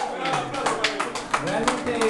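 Applause from an audience for a guest's parents, a steady burst of clapping with some voices mixed in, sustained across the whole moment.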